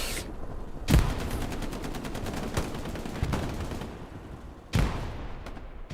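76 tank cannon firing at a Panzer IV in the video game Hell Let Loose, heavy booming shots with a dense crackle of rapid gunfire between them, loud and continuous, no talk.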